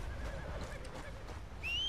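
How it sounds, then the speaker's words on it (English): Horse in Red Dead Redemption 2 gives a short, faint whinny amid soft game ambience, ending with a rising whistle-like tone. "Where's my horse?"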